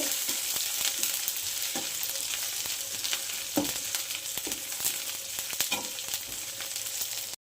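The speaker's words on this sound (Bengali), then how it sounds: "লাল লাল করে ভেজে নিতে হবে পেঁয়াজ রসুন" Onion and garlic fry together in oil until reddish brown, a dense close sizzle with intermittent spatula scrapes and taps against the pan, steady throughout and free of talk.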